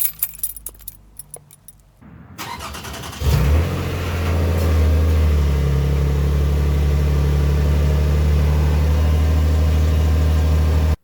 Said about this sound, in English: I am gonna start the car right now so you can see the